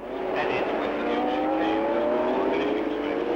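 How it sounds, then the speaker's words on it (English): 1967 Formula 1 race cars warming up on a short loop by the south curve of the German Grand Prix circuit, engines droning and rising in pitch as they pass, loud and continuous. "Drivers can now warm the cars up on the short length round by the south curve"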